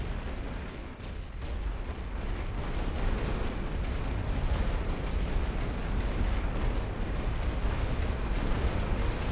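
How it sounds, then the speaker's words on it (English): Artillery fire in the strategy game The Great War: Western Front, a dense continuous rumble of distant explosions and bursts rolling on without pause. "Now they're caught in the artillery."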